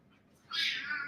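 A single cat meows indoors. After a short quiet lead-in it gives one bright, drawn-out meow at moderate distance.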